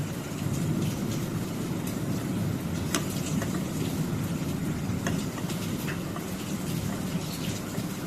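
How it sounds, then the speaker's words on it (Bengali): A vegetable paratha fries in a pan with a steady, dense sizzle, broken now and then by small pops and crackles. "সুন্দর করে ভেজে নিব"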